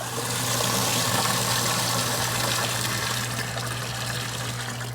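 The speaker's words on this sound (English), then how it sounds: "I just heard that well pump kick off just the way it's supposed to" A steady mechanical hum runs under a constant rush of flowing water, a well pump working continuously with no pauses.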